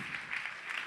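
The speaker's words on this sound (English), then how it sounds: "Clap your hands for that sister" Applause from a conference audience: a short burst of dense, steady clapping from many hands, moderately loud and filling the room.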